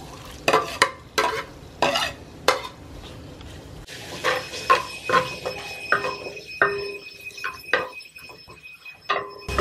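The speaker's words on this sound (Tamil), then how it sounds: "சட்டி நல்லா சூடு ஏறிடுச்சு. நம்ம தாளிக்கிற பொருளெல்லாம் போட்டுக்குவோம்." Tempering spices hit a hot clay pot in a home kitchen while crab is being cooked, giving a series of sharp sizzling bursts and stirring scrapes, followed by a softer, ongoing crackle close by.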